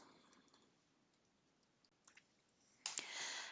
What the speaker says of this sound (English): So I'm just going to type my password in